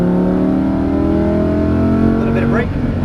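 Lamborghini Huracan LP610-4 V10 engine pulling under throttle on a racetrack, a loud steady drone with rising harmonics heard from inside the car, with a voice speaking over it.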